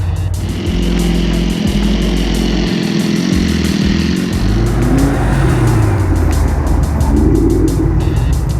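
Cobra sports cars cruise past at a Cars and Coffee show, their engines a loud, steady, close rumble that holds for several seconds with no talking over it.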